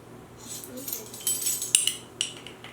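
Metal teaspoon scooping baking powder in a home kitchen while baking banana recipes, giving a few light clinks and scrapes against a container, close and quiet, with faint background voices.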